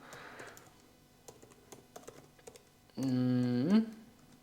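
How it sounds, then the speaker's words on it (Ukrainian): Quick, light clicking of a computer keyboard as an email address is typed, with irregular taps over about three seconds before a loud sustained tonal beep or hum cuts in near the end. "Тут вписуємо електронну адресу. Я вже пишу свою."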